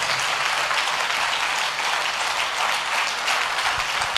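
A church congregation claps hands together in a sustained, even wash of applause that holds at a loud, constant level throughout, with no voices standing out.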